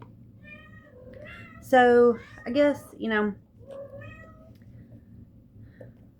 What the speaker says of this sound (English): okay, that's the cat.